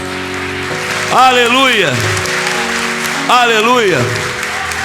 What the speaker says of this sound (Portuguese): se você crê, aplauda o Senhor Jesus